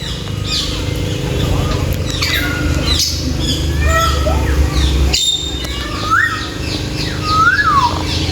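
Loud, harsh squawks and screeches of a blue-and-yellow macaw, repeated several times close by, with other bird chirps and background chatter.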